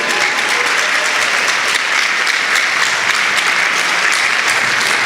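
Church congregation at Parole de Grâce in Paris applauding the Lord, a dense, steady wash of clapping hands lasting throughout, loud and close with no break.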